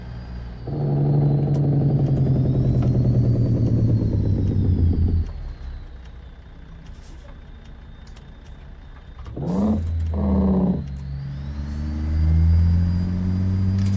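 A heavy truck engine in American Truck Simulator rumbles loud and steady for several seconds, drops away, then revs up again in two short bursts before settling back into a lower drone, with no talk over it.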